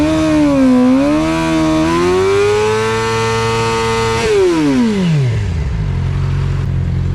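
A motorcycle engine revs hard and holds a high droning pitch, then winds down sharply to a low, rough idle, loud and close with no talking over it.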